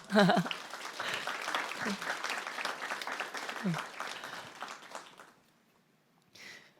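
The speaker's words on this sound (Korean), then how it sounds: "우리 박수 한번 부탁드려요" A church congregation claps together at a Wednesday worship service, a dense steady burst of applause that runs for several seconds, then fades, with a brief voice at the start.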